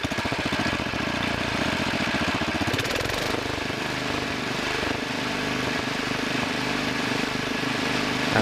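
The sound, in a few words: two-engine Wheel Horse tractor engine running after adjustment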